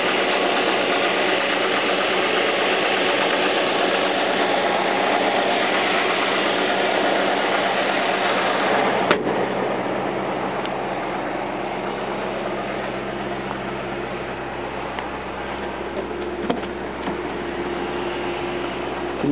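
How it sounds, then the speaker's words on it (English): A 2003 Maserati GT's Ferrari-built 4.8 litre V8 idles under an open hood, giving a steady, close, even rumble that runs on without a break, with one brief click partway through. "Can you hear the little rumble from that engine?"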